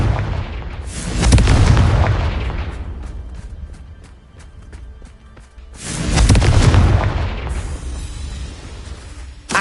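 Two heavy Confringo spell blasts in Hogwarts Legacy, each a deep booming explosion with a rumbling tail, loud and close, separated by a quieter stretch of crackling lower-level action.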